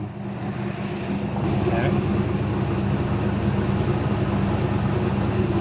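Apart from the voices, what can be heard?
LS engine running in a rescue air boat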